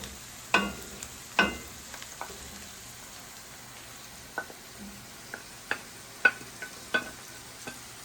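Onion, carrots and large chunks of mushroom cooking in a pan, heard as sparse, quiet sizzling with scattered scrapes and clicks of stirring; no talking.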